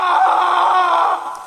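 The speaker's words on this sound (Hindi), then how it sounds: "किसी आदमी के चीखने की आवाजें आनी शुरू हो गई।" A man's single drawn-out scream as a horror story sound effect, loud and sustained for about a second before trailing off, with no talk.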